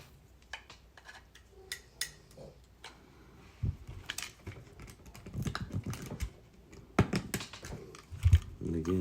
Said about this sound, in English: a little more trimming just to remove some of that melted plastic